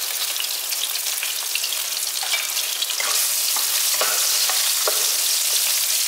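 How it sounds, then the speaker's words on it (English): Chili padi frying in a hot pan for oyster sauce prawns, a loud, bright, continuous sizzle with crackling pops and occasional stirring scrapes, close up with no voice over it. "Next, we add our chili. It's, I'm using chili padi."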